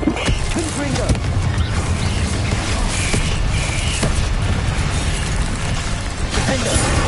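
Confringo explosive spells burst repeatedly during a Hogwarts Legacy duel, a loud, busy stretch of booms, pops and shattering debris layered over constant crackling battle noise, with brief sharp impacts scattered through.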